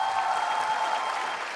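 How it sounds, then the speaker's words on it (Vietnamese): Studio audience at a televised dance competition applauding a couple's performance, dense steady clapping throughout at close range with no talk. "Hãy vỗ tay thật nồng nhiệt cho Huyền Thanh và Quang Đăng."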